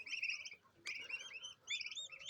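High-pitched chick peeping in repeated short bursts, fairly close, with brief pauses between the clusters of cheeping calls.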